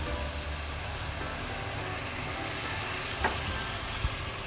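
Steady, quiet sizzling as water is added to a pan of frying mince for lasagna, with a couple of small clinks near the end.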